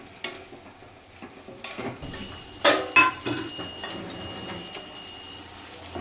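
A metal spatula presses and scrapes cooked chicken in a pot, making irregular clinks and louder scraping bursts near three seconds over a quiet background sizzle.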